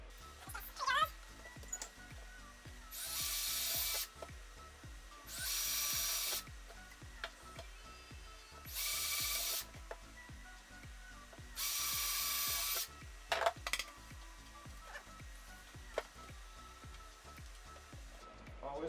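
A drill runs in four separate loud bursts of a couple of seconds each while working on a wooden skid being turned into a mining rig frame, with quieter handling noises between the bursts.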